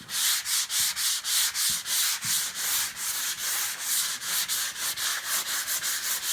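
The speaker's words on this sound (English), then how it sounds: "I'm going to get most of them by hand. And I'm using just a block" Rhythmic hand sanding of a drywall patch, a block scraped back and forth across the wall in steady, even strokes, close and continuous with no talking.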